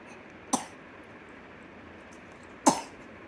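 Two short, sharp coughs from a child, about two seconds apart, against quiet indoor room noise with no talking.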